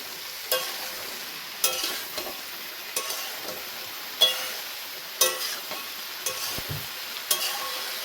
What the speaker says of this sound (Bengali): পেঁয়াজ পাতাটা দিয়ে দেবো। দিয়ে নেড়ে চেড়ে নেবো ভালো করে।